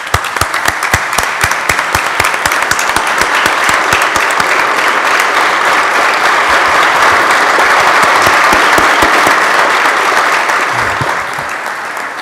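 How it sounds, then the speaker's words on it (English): Applause in the New York State Senate chamber, a loud, sustained burst of many people clapping that holds steady for several seconds before easing slightly near the end. "And let's give them a round of applause"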